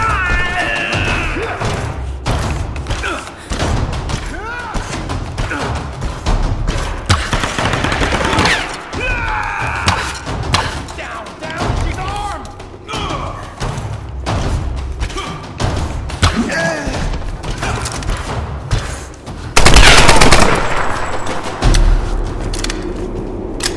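Gunfire in the video game Tomb Raider: Definitive Edition, loud bursts of rapid shots and thuds in irregular clusters, with game character voices shouting between volleys and a louder blast near the end.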